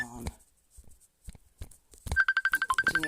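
Mobile phone ringing in a rapid repeating electronic ringtone pattern, clear and fairly close, entering after brief talk and some small handling noises.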